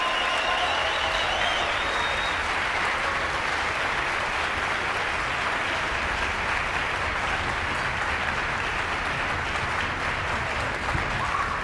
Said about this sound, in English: give a thunderous applause again to this amazing group of young people